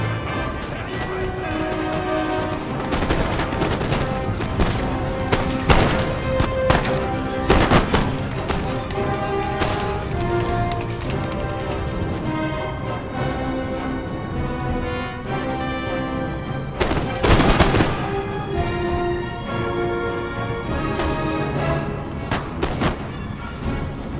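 Musket volleys from a Napoleonic-era battle in Napoleon: Total War, crackling in repeated ragged bursts over a dense battlefield din, with someone talking throughout.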